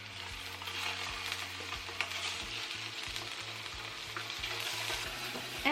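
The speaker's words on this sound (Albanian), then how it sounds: "Edhe i fërgoj deri sa të skuqen të 2 anë." Chicken pieces fry steadily in a hot pan, with a continuous close sizzle and crackle broken by a few soft knocks of the pan or utensil, and no talking.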